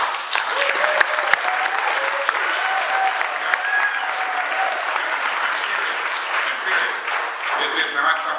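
Sustained applause from an audience at a council meeting after a unanimous vote, dense clapping filling the room with occasional louder claps and a voice briefly audible over it, tapering off at the end.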